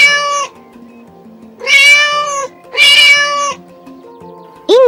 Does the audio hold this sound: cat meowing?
yes